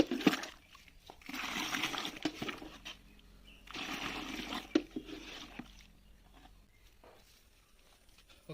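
Liquid fertilizer solution for banana plants stirred in water, two bursts of sloshing and swishing separated by a pause, close by, with faint knocks against the container.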